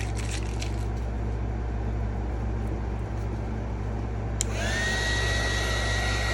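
A heat gun blows hot air in a steady, loud, close whoosh with a low hum, rising slightly in pitch partway through.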